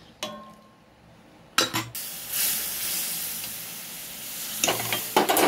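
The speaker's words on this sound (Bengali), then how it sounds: "এবারে ডালটাকে আমি একটু ফুটিয়ে নেব" Lentil dal cooks in a pot, with a few clinks of a utensil against the vessel, then a sudden strong hissing bubble that carries on steadily, heard close and with no talk.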